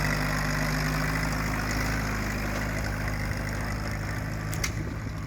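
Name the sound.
hit-and-miss engine running beside Allis Chalmers B tractor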